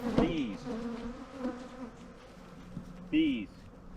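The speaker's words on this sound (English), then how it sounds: "the bees are following us" Bees swarm around backyard beehives, a steady insect buzz running throughout with two louder passes as individual bees fly close, mixed with low rustling and faint background sounds.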